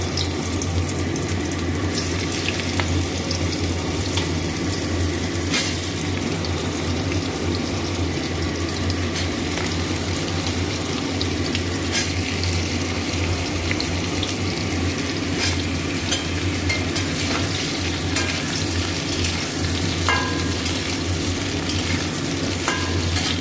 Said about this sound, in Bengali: এবারে আমি আলুগুলোকে ভেজে নেব, ওই তেলেই লাল লাল করে ভেজে নেব।